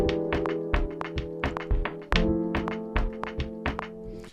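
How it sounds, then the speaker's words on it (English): Logic Pro X's metronome ticks in a fast, even pulse of sharp clicks, heard up close over sustained electronic tones, with a slightly stronger accent partway through. "Now let me show you what this counter does and what the metronome does."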